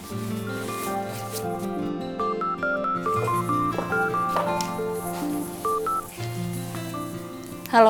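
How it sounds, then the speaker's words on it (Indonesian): Tones play in a steady melodic run with sustained harmonic layers underneath, loud and continuous, ending in a brief burst. "Telepon Andin dulu."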